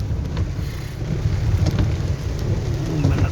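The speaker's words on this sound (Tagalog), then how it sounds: "lakas ng ulan, oh" Heavy rain pours steadily, a dense hiss with a low rumble underneath, close and continuous throughout with no talking.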